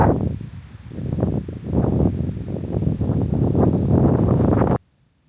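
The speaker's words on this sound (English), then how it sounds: "It's like 20-mile-an-hour wind gust today." Strong wind gusts of around 20 miles an hour buffet a microphone outdoors on a farm, a loud rumbling, fluttering roar that surges and dips continuously before stopping abruptly.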